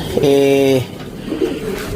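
Pigeons in a breeders' loft being vaccinated before shipping to a new owner: one loud, steady, resonant coo up close, followed by a softer, shorter coo in the background.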